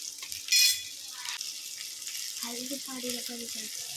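Water poured into a pot of mango rasam in a home kitchen, a brief loud splash early on, followed by quieter kitchen sounds and a voice speaking.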